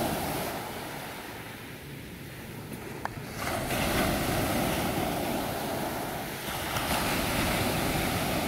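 Ocean surf washes steadily over the shore, a broad rushing wash that swells louder partway through, with wind buffeting the microphone and no voices.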